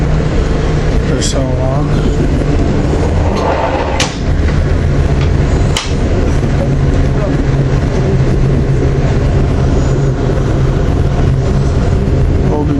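A freight train rumbles past close by in a steady, loud broadband roar with occasional metallic clanks, while someone speaks briefly over it.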